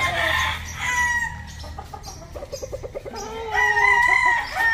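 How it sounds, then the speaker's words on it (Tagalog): Chickens and roosters on a farm with more than a hundred birds cluck and crow loudly nearby, with several crows overlapping and clucks between them. "Daming manok rito."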